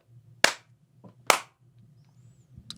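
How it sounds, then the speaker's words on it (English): Two sharp, loud hand claps made close to someone's ear, about a second apart, over a low steady hum. "turn your head and let me clap real hard and see if it hurts"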